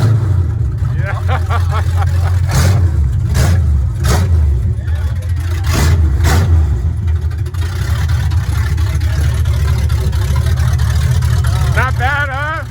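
A 1974 Ford F-250 with a custom 360 big block engine and headers revs loudly and close, a deep rumbling idle broken by several sharp throttle blips, with people talking over it.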